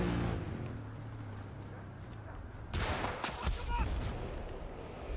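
Battlefield Bad Company 2 combat: a burst of gunfire and an RPG blast crackle at moderate level amid background battle noise, brief and sharp over a low rumbling ambience.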